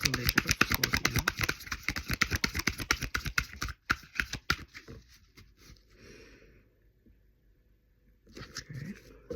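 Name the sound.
shuffling tarot cards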